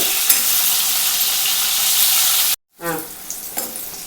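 Fish fillets for a curry fry in hot oil in a pan, giving a loud, steady broadband sizzle that cuts off sharply for a moment, then resumes more softly with faint crackles.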